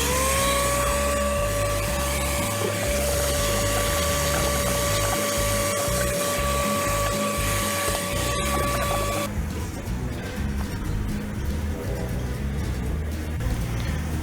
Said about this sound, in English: Vacuum these bees up.